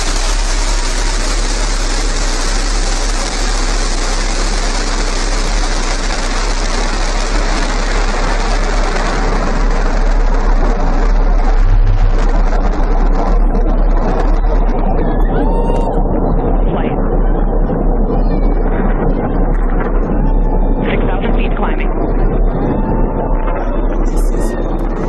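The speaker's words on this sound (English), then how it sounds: "Liftoff. New Shepard has cleared the tower." The Blue Origin New Shepard rocket lifts off with a loud, continuous engine roar, a dense, steady rumble that stays strong throughout, with voice commentary heard under it.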